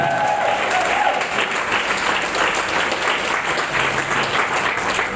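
A congregation at a spiritual retreat applauds to acclaim the Lord, producing a sustained, even wash of clapping that fills the room, with a faint voice underneath.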